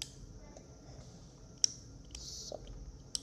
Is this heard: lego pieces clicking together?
yes